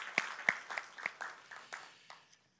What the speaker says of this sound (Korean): 우리 같이 두 분 박수로 환영하십시다.